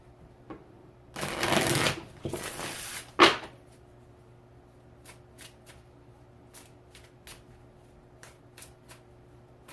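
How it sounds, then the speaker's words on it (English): Light Seers Tarot cards shuffled and handled at close range, a dense riffling burst of about two seconds followed by a sharp card snap, then faint scattered taps and slides over a quiet room. "Move some of my cards over here."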